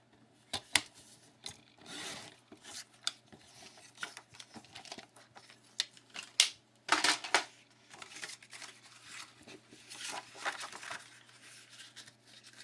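Paper being cut to a 5.5 by 7 size for a flip folio, a series of scattered dry rasping and slicing strokes, close and fairly quiet, with brief louder bursts and no talking.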